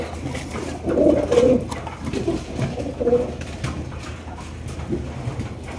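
Pigeons kept in a cage coo in soft, repeated throaty bursts, several overlapping calls that swell and fade close by, with low background rustle and no talk.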